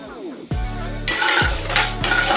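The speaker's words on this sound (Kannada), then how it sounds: "ಇದನ್ನೆಲ್ಲನೂ ಇದೇ ರೀತಿ ಎಣ್ಣೆನಲ್ಲೇ ಹುರ್ಕೋಬೇಕು." Cumin, mustard seeds, chana dal and urad dal frying in oil in a pan, a light crackling sizzle under metallic clinks of a spoon against the pan, loud and close.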